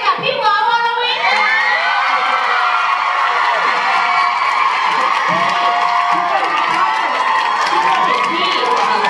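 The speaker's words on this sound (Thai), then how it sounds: "ขอเสียงปรบมือแรงๆ" A studio audience at a Thai drama fan event breaks into loud cheering, shrieks and whoops mixed with clapping, a dense, sustained crowd roar with excited voices rising over it throughout.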